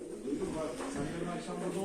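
Pigeons coo softly and continuously nearby, a low burbling chorus with steady background murmur.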